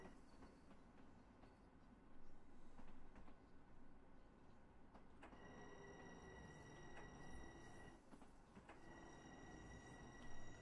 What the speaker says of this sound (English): A little bit of a downhill here that the train is trying to push up.